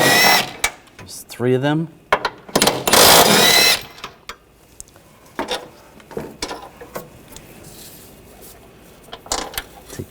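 A socket wrench ratchets out valve cover bolts on a 2014-2020 Nissan Rogue 2.5L, using a 16mm socket. Sharp metallic clicks and a short ratcheting burst are heard close up, broken up by spoken remarks.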